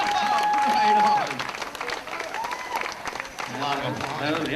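Applause from a march crowd in Cincinnati, Ohio, at the 2007 Global Marijuana March, starting with a full burst of clapping and a long shout, then settling into thinner, scattered clapping with voices mixed in.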